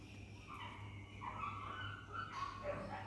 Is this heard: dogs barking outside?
yes